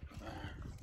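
A dog growls and huffs in short rough bursts while playing outdoors, close and fairly continuous over the brief moment, with no voices.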